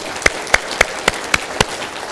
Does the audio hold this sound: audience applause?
yes